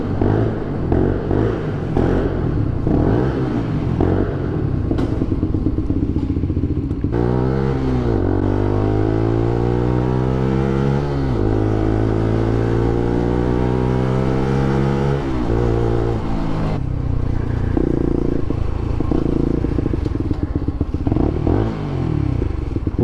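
A motorcycle rides over a bumpy road, its engine droning and shifting pitch as it revs and slows, with rattling and clatter from the rough surface throughout.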